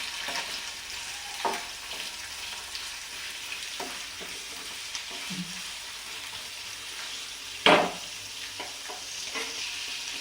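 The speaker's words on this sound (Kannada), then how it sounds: "ಸ್ವಲ್ಪ ಈರುಳ್ಳಿ ಎಲ್ಲ ನೀಟಾಗಿ ಫ್ರೈ ಆಗಲಿ" Onions frying in oil in a pan for a mushroom sambar paste, a steady close sizzle with a few sharp stirring scrapes, one louder clatter near the end.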